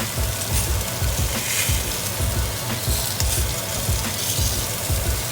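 Lamb pieces sizzle and fry steadily on a grill as they are flipped, a close, continuous crackle with soft scraping and shifting underneath and no talking.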